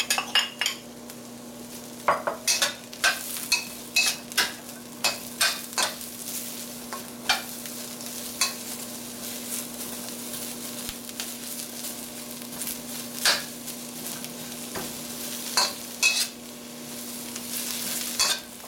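Mushrooms fry in a pan with chicken and broccoli cooking nearby, a soft steady sizzle under frequent close scraping and clinking as a utensil stirs against the pan, irregular and busy throughout.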